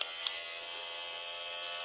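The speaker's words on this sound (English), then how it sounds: "there's your Boots battery toothbrush with cabinet." Boots battery-powered electric toothbrush from around 1980-85, switched on with brush head fitted, giving a steady close buzzing hum after a couple of brief clicks at the start.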